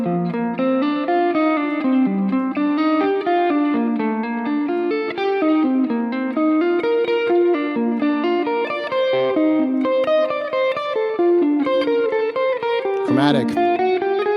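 Distorted electric guitar plays steady picked arpeggio patterns with a small chromatic figure over a backing track, a dense continuous stream of notes with effects and reverb, loud and close, ending in a brief sharp noise near the end.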